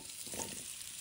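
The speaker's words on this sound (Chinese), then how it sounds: "开始轻轻煎制。" Pieces of taro and pumpkin fry gently in oil in a pan, a soft, even sizzle with faint stirring, quiet and close, with no voices.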